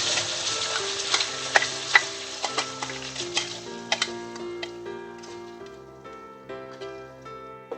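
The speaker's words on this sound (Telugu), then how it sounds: "మధ్య మధ్యలో ఇలా కలుపుతూ ఉంటే బాగా నూనె పైకి తేలేదాకా బాగా వేయించాలి." Tomato puree fries in oil with mustard seeds and asafoetida for a tomato chutney, while a spoon stirs it in quick, sharp clicking taps over a low sizzle and faint background music.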